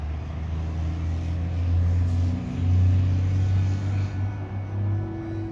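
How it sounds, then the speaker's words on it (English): A bus passing by at night in the Humber area, a low steady engine rumble that swells and fades over several seconds with no voices. "Or could that have been a ghost bus?"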